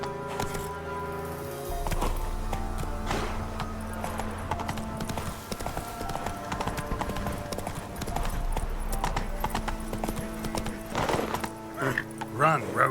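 Roach the horse gallops in The Witcher 3, rhythmic clip-clop hoofbeats with a whinny, set against game music and a brief voice.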